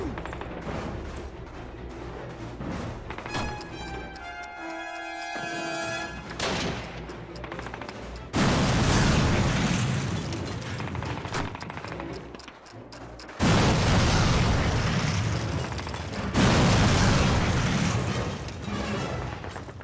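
Call of Duty campaign battle with bomb explosions and dense gunfire, loud booming bursts and rattling volleys that rise and fall, with a stretch of electronic beeping tones near the start.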